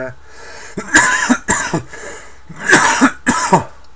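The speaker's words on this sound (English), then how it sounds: "will I ever shake this bloody cough." Close, loud coughing in several harsh bursts, a chesty fit of four or five coughs in quick succession.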